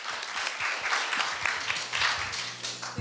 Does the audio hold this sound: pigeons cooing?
no